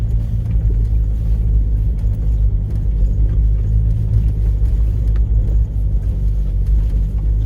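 A Land Rover Freelander Td4 in first gear crawls off-road through an icy quarry, its engine and drivetrain making a loud, steady low rumble from inside the cabin without talk.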